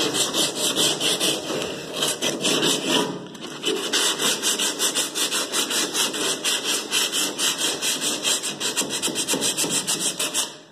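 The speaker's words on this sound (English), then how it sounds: "sand it back out. But I'll go through this by hand." Body filler on a 1959 Chevy Apache is sanded by hand, giving loud, close, rhythmic rasping strokes that repeat steadily with a brief pause partway through.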